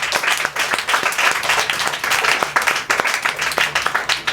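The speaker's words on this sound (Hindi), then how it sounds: "पहले ज़ोरदार ताली बजाएं" An audience at a Bible retreat gives a burst of loud, close applause, many hands clapping briskly with sharp individual claps standing out, and almost no voices.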